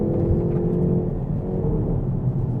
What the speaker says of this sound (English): And the noise out of the exhaust, those pops and crackles.